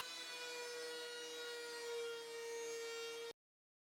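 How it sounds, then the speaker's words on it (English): A bandsaw resaws 1 inch thick wood stock into strips, giving a steady, sustained whine with a strong tonal hum and bright overtones, loud and close, cutting off abruptly near the end. "I resawed some 1 inch thick stock into 1/2 inch strips using my bandsaw"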